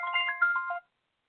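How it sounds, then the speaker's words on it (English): A mobile phone rings with a short, bright electronic melody of stepped harmonic tones that lasts under a second, then cuts off into silence. "Sorry about that. That was my phone."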